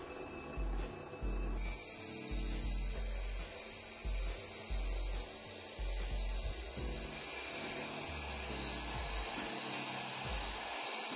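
A Turbo Max 7 concrete grinder runs steadily against a concrete surface, giving a faint, continuous whirring drone with a hissy edge and slight wavering throughout.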